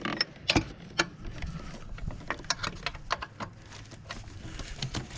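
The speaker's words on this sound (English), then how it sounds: "This guy down here is a 14, and you just loosen that guy off." A wrench loosening a 14 mm bolt on the power steering pump of a second-generation Toyota 4Runner, with quiet repeated metallic ratcheting clicks and clanks, close up and irregular, with no talk.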